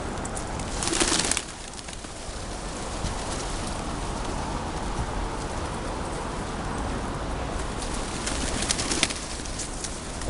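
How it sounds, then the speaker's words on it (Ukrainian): Pigeons coo softly amid a busy outdoor murmur at the old market square in Lviv, with a couple of brief louder bursts like wing flaps near the start and end. "Улюблене місце голубів старого ринку. Їх тут тисячі."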